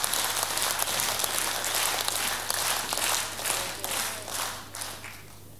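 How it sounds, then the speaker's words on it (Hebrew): A festival audience at a Yiddish music festival applauds with fairly soft, steady clapping from many hands over a faint electrical hum. The applause gradually thins and fades. "חברים, תנו להם כפיים, באמת מגיע להם."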